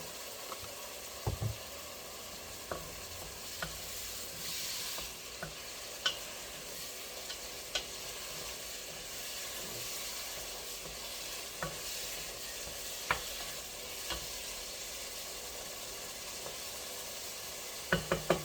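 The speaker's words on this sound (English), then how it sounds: "it doesn't take long to cook the kielbasa, so you can see steaming" Kielbasa cooking in a little broth in a pot, a faint, steady sizzle and simmer with occasional soft ticks and pops from the pan.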